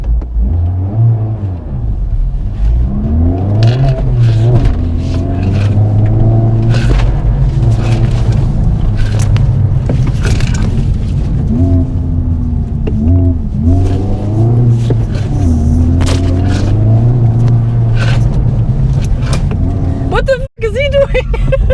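A Honda FL5 on cold Yokohama-style CR-S tires accelerates around a track, its engine droning and rising through revs from inside the cabin, with people talking over the steady motor noise and a brief thump near the end.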